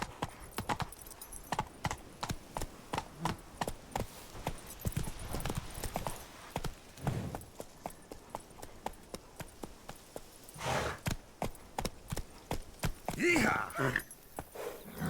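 Hooves from a horse in The Witcher 3 video game beat out a steady, rapid rhythm, close and crisp, across the whole stretch, with short shouts and bursts of noise rising over them near the end.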